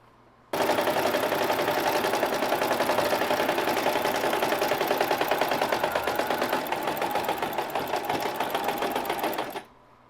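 A sewing machine runs a wide zigzag stitch at about one stitch length, starting abruptly and chattering in a fast, even, close rhythm for roughly nine seconds before stopping, with no talk over it.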